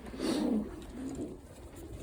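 Pigeon chicks in a loft give a soft, low cooing murmur, strongest early on and then fading into quiet background noise.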